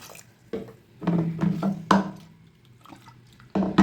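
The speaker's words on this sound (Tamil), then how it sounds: "இதை கொஞ்சமாக தண்ணி ஊற்றி ஒரு மூணு விசில் வச்சு நல்லா வேக வச்சிடலாம்" Water splashing and pouring into a pressure cooker of green gram dal in a few short bursts, with gurgles and clinks between pours.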